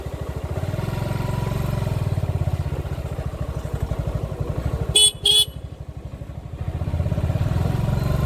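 A horn blares twice in quick succession over the steady, close drone of a motorcycle engine that runs throughout.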